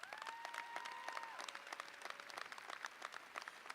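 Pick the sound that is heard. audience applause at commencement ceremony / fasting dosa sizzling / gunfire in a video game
audience applause at commencement ceremony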